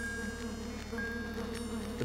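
Bees buzzing in the video game Lands of Lore: The Throne of Chaos, a steady droning hum that holds alone at an even level throughout, with no talking.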